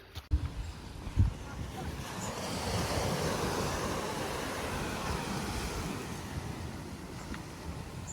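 Wind and surf on a beach at Bruny Island in wild weather: a steady broad roar of waves and gusting wind buffeting the microphone, after a couple of sharp knocks at the start.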